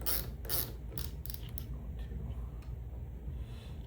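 Portable bearing roller swage tool MS14103-5 rolling a bearing gives faint, close ratcheting clicks and creaks. A few sharper ticks come early, then the mechanism keeps up a soft, uneven grinding rhythm.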